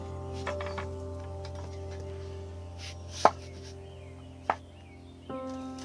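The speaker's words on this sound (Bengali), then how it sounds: "পেঁয়াজটা এমনি কেটে এর মধ্যে দিয়ে দিচ্ছি" An onion being cut by hand over tomatoes, a few sparse, sharp knife clicks spaced out against a steady low background hum.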